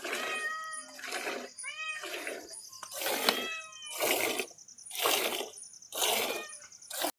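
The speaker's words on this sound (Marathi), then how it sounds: "ती मांजर येड्यावणी करते दुधासाठी" A cat meows insistently, again and again in a steady rhythm, close by, with a faint hissing background between calls.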